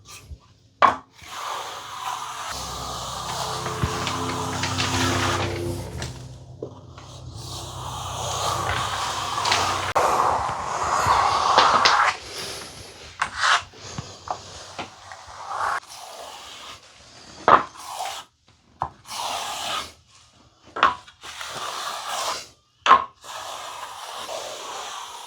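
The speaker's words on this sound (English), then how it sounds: "I'm about to lay it down again. And we've got about 3 or so left just to flatten it off, cross trowel with a flexi" Trowel smoothing AeroCork insulation plaster across an interior wall, with long scraping strokes at first, then a run of irregular wet slaps, scrapes and knocks, fairly close and with no talk.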